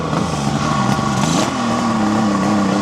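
A 1974 Kawasaki motorcycle engine revs up close, its note rising and holding steady with a rough mechanical edge, loud and alone.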